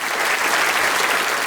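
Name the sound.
MPs applauding the Cox family in the House of Commons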